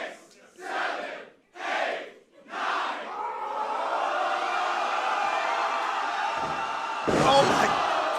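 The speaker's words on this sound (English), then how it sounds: "Oh my God, a sit-out powerbomb into a pin." A wrestling crowd at a bar wrestling show chants in three loud bursts, then a sustained roar follows before a sharp impact as a big man is slammed to the mat by a sit-out powerbomb.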